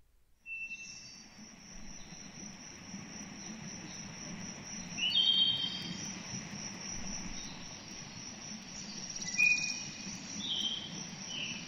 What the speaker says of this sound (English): Here's what a forest sounds like.